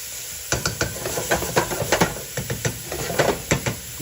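Garlic stir-fried in a pan and kept moving, a close steady sizzle punctuated by quick rhythmic scraping strokes of the utensil against the pan, roughly a dozen in a few seconds, with no talking.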